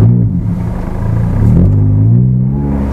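A Toyota Vios with a 2ZZ engine and six-speed gearbox revs loudly up close, its deep engine rumble swelling and rising in pitch over a few seconds.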